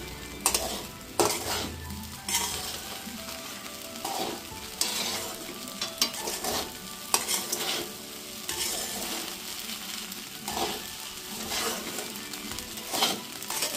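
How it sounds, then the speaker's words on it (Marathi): Sabudana khichdi being stir-fried over a full flame in a pan, with a loud continuous sizzle and repeated scraping and clattering of a spatula against the metal, all close up and with no voices. "चांगली फुल गॅसवर खिचडी परतून घेते मी."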